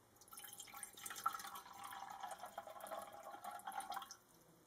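Hydrochloric acid is poured off copper metal in a lab beaker, a soft, steady trickle of liquid lasting a few seconds with small drips, fairly faint and heard without any talk.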